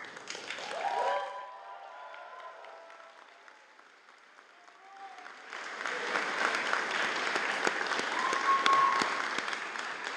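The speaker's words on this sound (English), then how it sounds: "Just have a quick cheer for them." A graduation convocation audience breaks into sustained applause and cheering that swells and fills the hall, dense clapping continuing loudly to the end after a brief quieter stretch.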